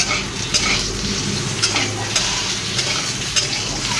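Pieces of meat sizzle in hot oil while a spoon stirs them, with a steady close frying hiss and scattered scraping clicks against the pan.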